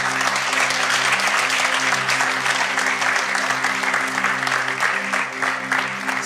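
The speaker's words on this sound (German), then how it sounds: "lasst uns doch diejenigen, die das erste Mal hier sind oder auch zuschauen, mit einem Applaus begrüßen" A church congregation applauds to welcome newcomers, dense sustained clapping throughout, with a steady sustained musical tone playing underneath.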